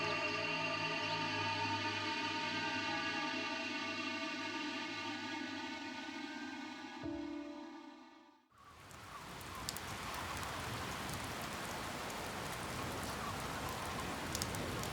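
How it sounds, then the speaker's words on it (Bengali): Light drizzle begins outdoors as a Kalbaishakhi storm builds on a rural Bengal afternoon, with wind picking up. A soft, steady hiss of rain fills the second half, following an earlier stretch of low tonal humming. "বাইরে ঝিরঝির করে বৃষ্টি শুরু হয়েছে।"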